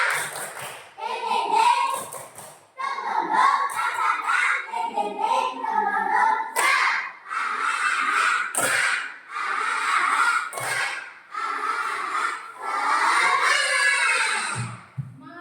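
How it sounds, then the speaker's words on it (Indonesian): A class claps through a rhythmic 'tepuk semangat' routine, sharp hand claps landing in patterned bursts among chanted children's voices that carry on almost without pause. "Kita tepuk semangat dulu ya."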